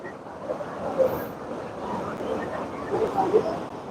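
Niagara Falls roars as a dense, steady rush of falling water mixed with wind buffeting, loud and constant, with faint murmuring voices beneath.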